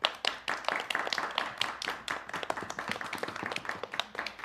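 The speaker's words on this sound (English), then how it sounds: "Let's clap for Will" An audience of children and adults claps for a young reader after a story, with steady, slightly uneven hand claps close by and no talking.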